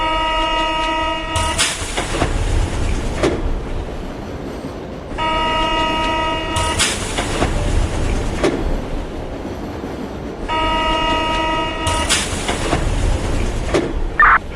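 Paris metro train running on the line, with three repeated cycles of loud rumbling and rolling wheel noise, each opened by a bright tonal horn or motor whine, then a burst of louder rushing; no speech.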